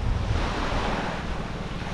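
Steady wash of sea waves on a beach at Panglao, Bohol, with continuous surf and wind rumble filling the short stretch, no voices.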